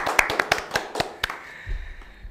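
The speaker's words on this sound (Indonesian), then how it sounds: "kita beri aplaus untuk Pak Guru Tovan" A small audience claps to welcome a guest on an Indonesian talk show: a short burst of scattered, crisp handclaps that quickly thins out and fades, ending with a low thump.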